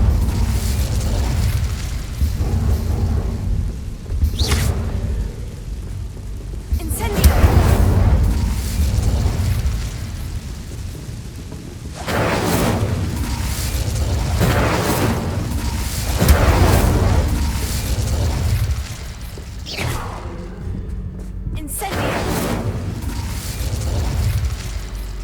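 A fire spell cast in Hogwarts Legacy bursts into a series of loud, booming blasts with crackling flare-ups, several heavy hits spread across the stretch amid continuous game ambience, with no talking.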